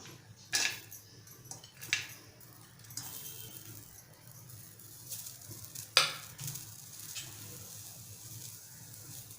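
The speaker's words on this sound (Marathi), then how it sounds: "इथे कढई गरम झाले, त्यामध्ये आपण सुकं खोबरं घालूया" Dry coconut roasting in a hot kadhai for a Malvani sprouted chana usal, with scraping stirs and a few sharp clinks near 0.6, 2 and 6 seconds over a faint steady sizzle, close by and without talk.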